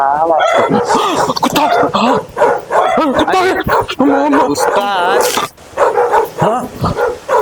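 A voice imitates a dog, giving several quick barks and yips mixed with speech-like sounds and a cough-like bark.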